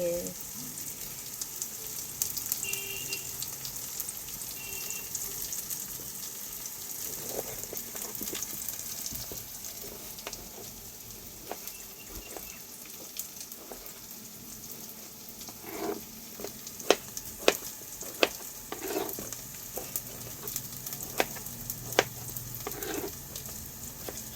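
Potatoes fry in a pan as a fry-style side for biryani, giving a steady low sizzle with occasional sharper crackles and scraping stirs toward the end, with no talking.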